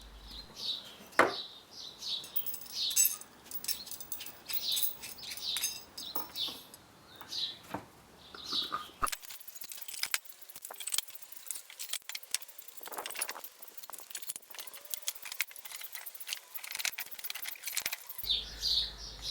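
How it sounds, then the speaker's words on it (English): Metal gluing clamps being assembled for a pallet-wood table, giving scattered light metallic jangles, clinks and rattles at close range, fairly quiet, with gaps between bursts. "Assemble the gluing clamps."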